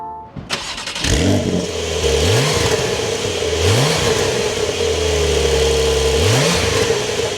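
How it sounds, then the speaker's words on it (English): A Porsche engine cranks and fires up close by, then settles into a steady idle broken by three quick throttle blips that rise and fall in pitch, with no voices. "let's fire this up and take a listen to how it sounds"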